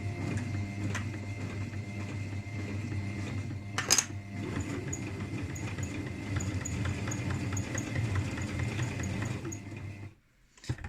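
A sewing machine driven by a foot pedal stitches across a fabric scrunchie in a steady, continuous mechanical whir and clatter lasting about ten seconds, close and fairly loud, then cuts off abruptly near the end.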